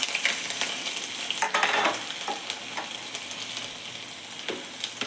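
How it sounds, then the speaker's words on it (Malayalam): Ginger tipped into hot oil with popped mustard seeds in a pan for a Kerala sardine curry: a close, steady sizzle with crackles and a few stirring scrapes, and no talk. "കടുക് പൊട്ടിയിട്ടുണ്ട്. നമുക്ക് ഇഞ്ചി ഇട്ട് കൊടുക്കാം."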